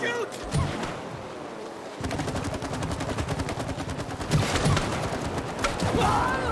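Gunfire during a fight in the co-op video game It Takes Two, rapid bursts of shooting layered with game effects and music while players talk over it.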